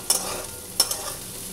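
Potatoes and onions fry in a pan while a spatula stirs them, two sharp scraping clicks standing out over a soft steady sizzle.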